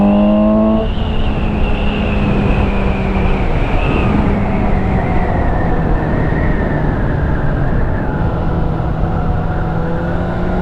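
A 2017 Suzuki GSX-S 750 motorcycle engine under riding load, a loud steady drone with a shifting whine that drops as the revs fall near the start, then holds over continuous wind rush.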